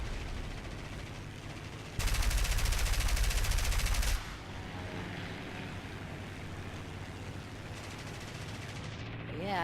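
Rapid bursts of aircraft machine-gun fire in the War Thunder combat game, a loud two-second rattling stream and a later shorter burst, over a constant engine drone.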